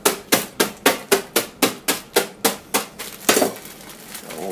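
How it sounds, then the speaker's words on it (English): Hammer blows on a packaged block of ramen noodles at a camp firebox stove, about a dozen sharp, evenly spaced whacks, loud and close, slowing into a crinkly rustle of the package. "we're all ready to go ahead and beat up our ramen here a little bit. Take the old hammer"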